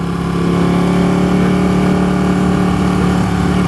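A Ducati 1299 Panigale S engine running close by, a loud, steady droning hum with a firm low pulse, unbroken for the whole few seconds and with no speech.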